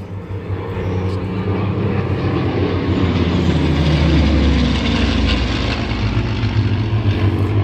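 Mustang, Spitfire and P-40 warbirds flying together at an airshow, a continuous loud piston-engine drone with deep propeller rumble that builds slightly and holds, with faint talk underneath.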